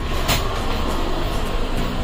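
Inside the Kolkata Special Express passenger train, a steady rumbling roar of the moving carriage holds at an even level for about two seconds, with no voices.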